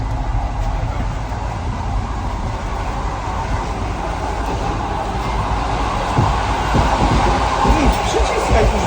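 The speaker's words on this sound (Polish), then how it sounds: "To jest taki prawdziwy pociąg, wiesz?" A passenger train heard from inside a carriage, with a steady low rumble and continuous roar throughout and faint voices of passengers underneath.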